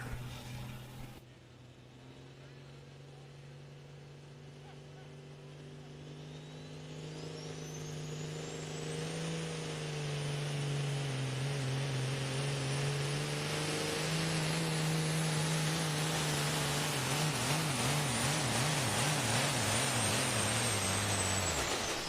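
A pulling semi-truck roars under load at a truck pull, its engine climbing steadily in pitch and loudness over many seconds before surging and wavering near the end, heard from close by with no talk over it.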